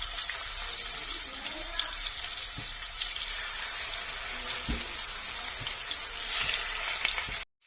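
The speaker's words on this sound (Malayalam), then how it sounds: "അപ്പം നമുക്ക് ഒരു ചിക്കനായിട്ട് വറുത്തെടുക്കാം." Chicken fries in a pan with a dense, continuous hiss of hot oil held close and loud, a few soft knocks from the pan now and then, and an abrupt stop at the very end.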